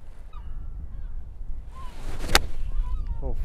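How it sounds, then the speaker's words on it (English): On an outdoor golf course, a bird gives a few short honking calls over light wind noise, with a sharp swing strike or impact in the middle. "Seagull in your backswing."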